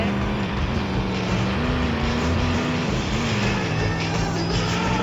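A Thar's engine straining as it climbs a hill in the Extreme Car Driving game, a steady loud drone whose pitch wavers up and down under continuous revving, with a voice faintly present beneath.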